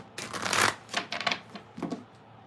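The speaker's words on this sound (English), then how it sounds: "I'm shuffling for Capricorn at the moment." Cards being shuffled in several quick riffling bursts, close and fairly loud, with short pauses between them.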